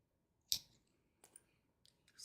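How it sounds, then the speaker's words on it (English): Super sharp scissors snipping during a cozy crafting session, a few quiet, sharp clicks spaced apart, one crisper cut near the start and fainter snips after. "The super sharp scissors."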